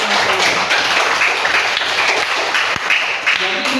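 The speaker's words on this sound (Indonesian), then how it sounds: "Tepuk tangan untuk teman-teman." Schoolchildren in a classroom clap for their classmates in dense, steady applause up close, with a few sharper taps near the end.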